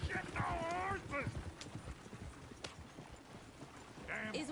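Horse hooves clip-clop at a steady walking pace in the Red Dead video game, joined by a couple of short whinnies, while game voices talk over them.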